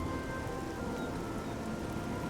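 Steady, even rainfall in the fantasy video game Oblivion hisses softly and continuously across the whole span, a faint, uniform wash with no voices.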